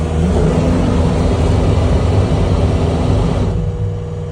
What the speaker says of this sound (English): Look, there's the reverse fan working.